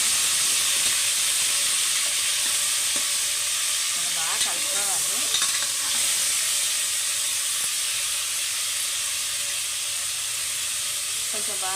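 Mutton pieces frying and being stirred in a hot pan, a steady loud sizzle and hiss running throughout with occasional scrape of stirring, no talking.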